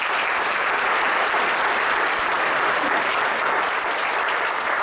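A hall full of people at an alumni reunion applauds in a dense, sustained wash of clapping, steady and fairly loud throughout with no voices standing out.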